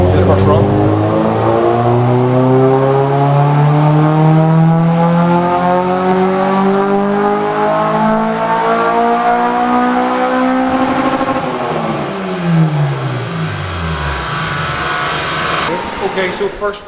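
Honda K-series car engine running on a dyno with a K Pro ECU and Honda base file, revving loudly as it climbs through a long pull, then dropping back down as the run winds off.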